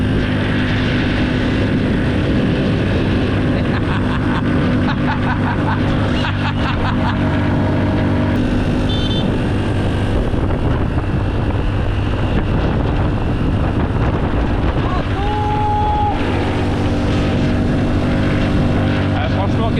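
Small-engine motorbike, under 125 cc, ridden in winter cold on the Hivernale du Vercors, droning loudly and steadily throughout with shifting pitch, close to the listener.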